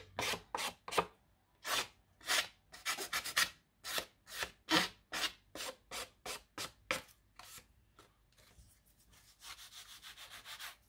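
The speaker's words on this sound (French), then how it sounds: "Là, je vais venir y limer." A worn nail file rasping back and forth across the edge of a paper card, about twenty quick, evenly spaced strokes close up, followed by a softer continuous rubbing at the end.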